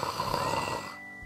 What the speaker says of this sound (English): no one snores like that